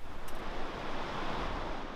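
Calm sea washing onto a beach in Sicily, a soft, steady hiss of surf with light wind buffeting the microphone, faint and even over two seconds.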